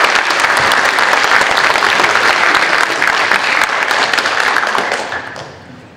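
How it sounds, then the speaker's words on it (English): Loud, sustained applause from a crowd at a middle school academic honors ceremony, steady clapping that carries for several seconds before fading away at the end. "I just want to give them a big round of applause"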